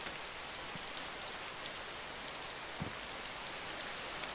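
Rain falls steadily outdoors in a soft, even hiss of dense drops, faint and continuous, with a few slightly louder patters standing out now and then.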